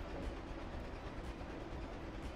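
A train in the video game Gang Beasts gives off a continuous, even rumbling roar of rolling rail noise, steady and moderately loud throughout with no voices.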